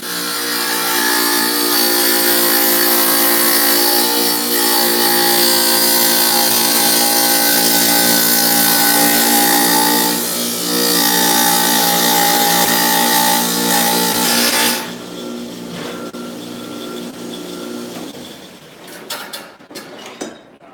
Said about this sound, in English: the loud tile saw.